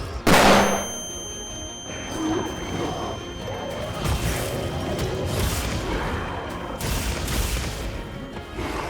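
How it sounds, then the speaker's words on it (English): A flashbang grenade going off in the shooter game Escape from Tarkov, a sharp loud crack near the start followed by ringing, scattered thumps and several further bursts of in-game noise, with no talk. "Throwing flashbang."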